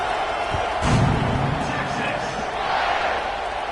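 A football stadium crowd buzzes after a score as the kickoff is set up, a broad, steady murmur of many voices with a brief louder burst, under a commentator's talk.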